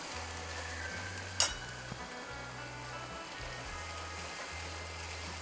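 Onion and tomato gravy frying in plenty of oil for Nagpur-style tarri poha makes a faint, steady sizzle, with a single sharp clink partway through and a low electrical hum underneath.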